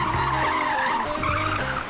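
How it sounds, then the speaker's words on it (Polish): A Tesla Model S Plaid spinning donuts, its tires skidding in a loud, continuous squeal with engine-free whine and shifting pitch throughout, close and dominant. "To jest chyba pierwsze, jedyne auto, w którym nie dam rady wokół Kuby bączków zakręcić."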